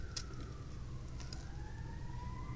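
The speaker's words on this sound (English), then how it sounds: "Wow, lots of sirens today." Distant emergency vehicle sirens wail faintly, their steady tones slowly rising and falling over low traffic rumble, with a couple of brief clicks close by.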